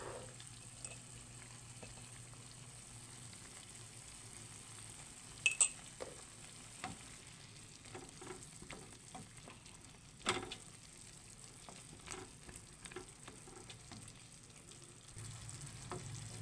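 Pork rib broth simmers quietly in a covered pot on the lowest heat, a faint continuous bubbling hiss with occasional soft clicks and a few brief knocks.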